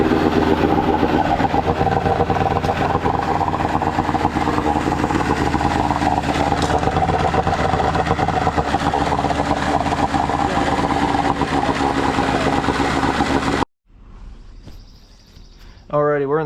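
A 1989 15hp Gamefisher outboard engine runs steadily and loudly at a constant buzzing drone for about fourteen seconds, then cuts off abruptly, leaving quieter background noise.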